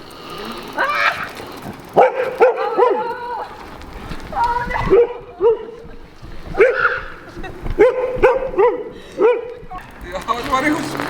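A dog barks in short, bright bursts and lets out whimpering yips several times, fairly close, while people talk over and between the sounds.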